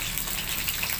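Fish frying in oil in a pan for a one-pound-style Filipino dish, a dense, steady sizzle close up with no talking.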